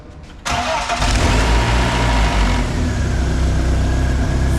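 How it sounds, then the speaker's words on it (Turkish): A BMW E36 Compact engine cold-starts after a DISA valve repair. It cranks briefly, catches loudly about half a second in, then settles into a steady, close-up idle with no talking. "Cold startını yapacağız. Çalıştır."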